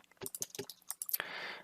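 Close, crisp computer keyboard key presses in an irregular run of sharp clicks, ending in a brief louder rustling burst, with no voices.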